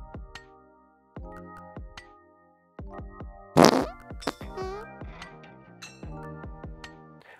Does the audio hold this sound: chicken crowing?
no